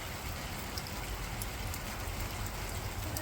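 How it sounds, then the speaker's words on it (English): Steady rain falls continuously over an outdoor farm setting near fence lines, a dense even hiss with occasional brighter drops, fairly close and unbroken, with no one speaking. "Raining. Got it all prettied up just for the rain."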